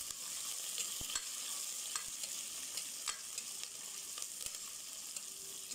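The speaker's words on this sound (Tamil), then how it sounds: "நல்லா வதக்கணும், நல்லா வதக்கி விட்டுக்கோங்க." Onions and green chillies sauté in hot oil in a pan, giving a steady close sizzle with occasional stirring scrapes and clicks, and no voices.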